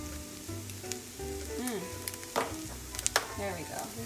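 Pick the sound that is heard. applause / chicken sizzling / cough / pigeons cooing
chicken sizzling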